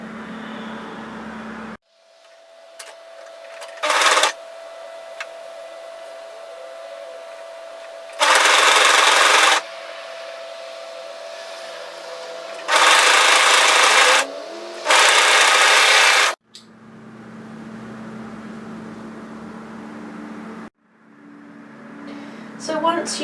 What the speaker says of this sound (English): We're just going to serge right on the very edge